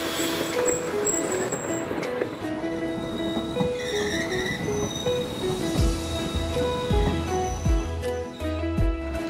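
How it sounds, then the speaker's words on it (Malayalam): A passenger train with engines at both front and rear passes on the Kollam-Sengottai line, wheels squealing and rumbling steadily alongside for several seconds, with low engine drone growing in the second half. "ദാ ഈ ട്രെയിൻ പാസ് ചെയ്ത് പോകാനായിട്ടാണ് നമ്മുടെ ട്രെയിൻ പിടിച്ചിട്ടിരുന്നത്."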